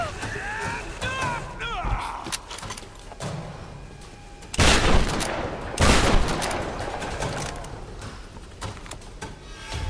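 Gunfire in the Tomb Raider video game: rapid bursts of shots and loud blasts amid a busy firefight with a distorted voice early on, swelling into heavy booming volleys midway before fading to scattered shots.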